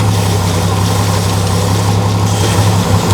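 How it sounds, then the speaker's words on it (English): Willys Jeep fitted with a 12-volt PS1000 power steering kit and Saginaw pump, its engine idling steadily at close range with a continuous low rumble and no talking. "it steers and sounds just like every other normal vehicle that you would see with the Saginaw power steering pump and the PS1000 power steering kit"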